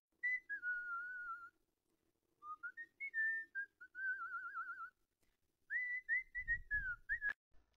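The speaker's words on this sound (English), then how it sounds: "At exactly 3:03, we heard the whistling." Eerie whistling at night, a lone melodic whistle that rises and falls in drawn-out phrases with pauses between them, heard clearly and fairly near, ending with a brief low rumble and a sharp knock.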